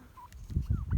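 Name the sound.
chickens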